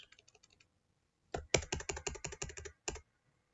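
Typing on a computer keyboard while entering a web address: a few light taps, a pause, then a quick loud run of clustered keystrokes ending in one firm final press, close and alone.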